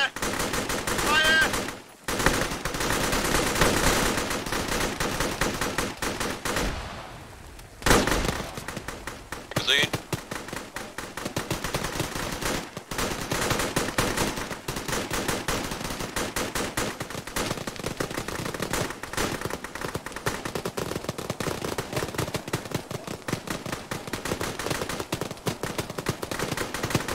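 Sustained gunfire in the Arma military video game, with continuous machine-gun bursts and rifle shots rattling for nearly half a minute, pausing only briefly, with voices shouting at times over the shooting.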